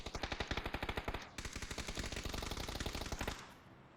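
Automatic gunfire from a PUBG match crackles in rapid, steady bursts for several seconds, loud and close, with a brief break near the middle before the firing resumes and stops abruptly.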